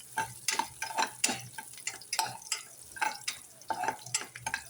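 Spices frying in ghee in a pan, with a soft background sizzle and a series of quick scraping stirs and light clinks against the metal, fairly quiet and close.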